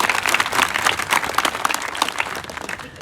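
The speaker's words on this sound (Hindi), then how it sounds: "जोरदार ताली माँ के लिए" A crowd breaks into loud, continuous applause honoring mothers, dense clapping sustained evenly for the full stretch with no voices standing out.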